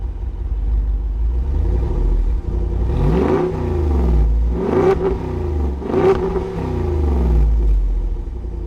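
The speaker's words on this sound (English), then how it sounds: "now let's rev this thing up" A 2026 Jeep Wrangler Moab 392 V8 engine with dual exhaust idles with a deep rumble, then revs up sharply three times, each burst roaring loud and close before dropping back to idle.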